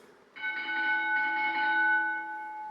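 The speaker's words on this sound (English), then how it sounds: "We have prepared a special signal that indicates when the first 30 seconds will" A bell-like electronic tone marks the start of a networking round at a battery industry forum. It is a sustained, steady ringing chime with stacked pure partials that holds for about two seconds and then slowly fades, heard alone in a quiet hall.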